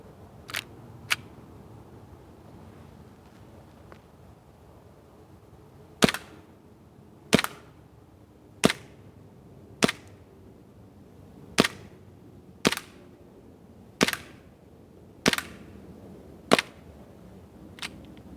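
A WE tactical response M1911 airsoft pistol fires outdoors on a chilly day. It gives about eleven sharp, loud cracks: two early shots, a pause, then a steady series roughly one per second, with quiet background between shots.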